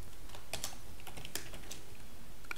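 Fingers type HTML on a computer keyboard, a close, fairly quick run of light clicking keystrokes with uneven spacing and no voices.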